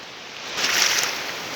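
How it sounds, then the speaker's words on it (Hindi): River water waves slapping against the bank: a steady broad rushing wash that swells briefly louder in the middle, with wind in the microphone and no voices. "देखो कितने ज़ोर के साथ ये पानी यहाँ पर लग रहा है"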